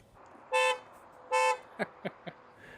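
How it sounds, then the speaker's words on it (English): A VinFast VF9 sounds its horn on locking: two loud, sustained blasts about a second apart, followed by three short chirps, close by in a quiet setting. "The horn absolutely needs to be adjusted. It sounds like the car is getting stolen every time it locks."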